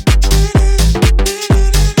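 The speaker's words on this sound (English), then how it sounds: "I have like a delay, but it's like kind of a slapback delay that kind of repeats over and over again." A heavy electronic dance drop repeats punchy kicks with short slapback delay echoes trailing each hit in a tight, pumping rhythm, loud with no voices.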